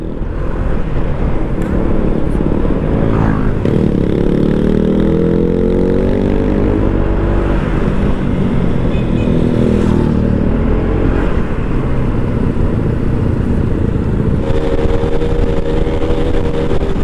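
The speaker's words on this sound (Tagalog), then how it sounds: "medyo pumupugak-pugak yung motor ni best friend Kyle." A loud, sputtering Honda PCX motorcycle engine drones steadily up close on an adventure ride, its note wavering and uneven, with wind rush over it throughout.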